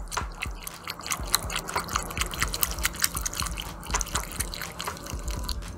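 Ingredients with grated parmesan are stirred together in a bowl, giving a close, wet, squelching patter of rapid uneven clicks and slaps throughout.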